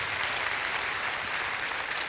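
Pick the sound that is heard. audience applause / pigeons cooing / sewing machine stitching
audience applause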